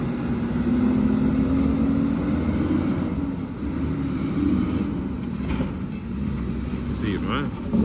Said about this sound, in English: Sound like a Detroit, sound like ISX.